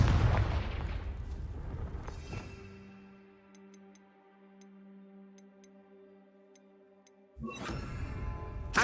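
Confringo blasting spell going off in the video game Hogwarts Legacy: a loud, rumbling explosion at the start that fades into a quiet stretch with a few soft ticks and a low hum, followed by a second burst near the end.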